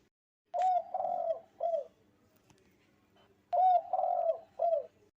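A bird coos in an old woman's village home, likely a dove or pigeon, in two clear phrases of about three soft, rounded notes each, separated by a quiet pause.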